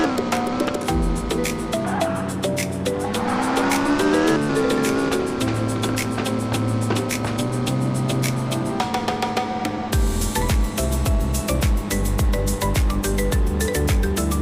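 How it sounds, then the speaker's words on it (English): An F1 race car is driven in the Car Simulator 2 video game, its loud continuous engine note rising and shifting in pitch over a busy layer of game music and effects. "Then we will drive our F1."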